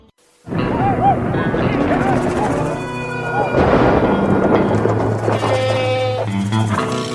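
Thunderstorm effect in a radio advertisement, with rolling rumbles and crackling noise building and swelling throughout, layered with bleating livestock sounds and sustained tones mixed loud and close.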